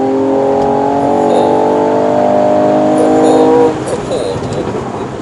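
A Mercedes-AMG CLS 53 4MATIC+ turbocharged 3.0-litre inline-six revving hard, a loud rising harmonic roar that climbs for a few seconds, then drops off into a rougher, lower rumble.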